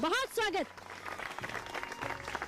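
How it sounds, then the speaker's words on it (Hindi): A village audience at a chaupal gathering in Jaipur village breaks into applause right after a short spoken welcome, the clapping a steady, mid-level patter that carries on to the end. "और ये तालियों की गड़गड़ाहट"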